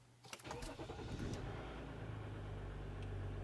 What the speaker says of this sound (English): So now I'm going to start the truck.